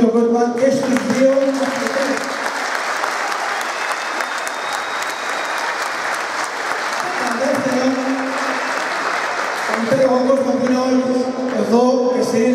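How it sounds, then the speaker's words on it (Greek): A crowd gives warm applause to two wrestlers after a bout, sustained clapping filling the space while someone speaks over it through an amplified announcement at the start and end. "δώσουμε το θερμό χειροκρότημα και στους δύο"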